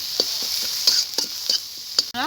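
Masala of ground cumin, coriander and dry chili powder sautéed in a pan, with quick close spoon scrapes and clacks over a faint sizzle and no talking.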